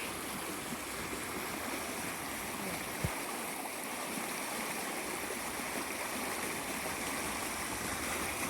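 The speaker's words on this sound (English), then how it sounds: "Listen to this creek." A creek swollen by heavy rain rushes and burbles continuously, a steady broad wash of flowing water close by, with a single faint knock partway through.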